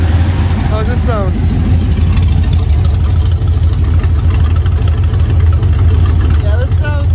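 Close, loud, even idle of an LS V8 swapped into an OBS truck on its first start-up, holding a steady deep drone with a slightly uneven, rappy texture and whirring fans underneath.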